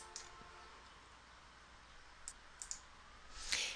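A few faint, sharp computer mouse clicks, a single one early, a quick pair near the middle and a louder one at the end, separated by quiet room hiss.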